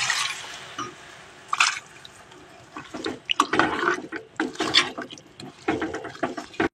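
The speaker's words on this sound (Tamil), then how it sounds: "லைட்டாக தண்ணி ஊற்றலாம்." Water is poured in short, splashing bursts into a pot of South Indian dried fish (karuvadu) curry with spices and mango, heard close up with drips and pauses between pours.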